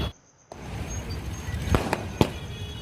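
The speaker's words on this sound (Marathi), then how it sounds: "फटाक्यांची आतिषबाजी करत जल्लोष साजरा केला" After a brief silence, a couple of sharp firecracker bangs crack out, separated by a short gap, over a steady noisy outdoor background at a celebration in a town square in Kalamb, Maharashtra.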